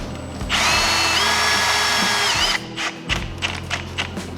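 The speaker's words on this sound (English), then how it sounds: "We just ran a self-tapper screw through that" A power drill driving a self-tapping screw into a bracket on a John Deere 955 compact tractor, a loud whirring burst of about two seconds with rising pitch, followed by clanks and handling knocks.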